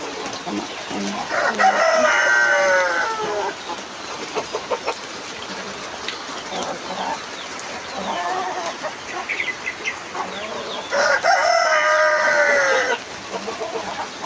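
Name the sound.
chickens clucking and a rooster crowing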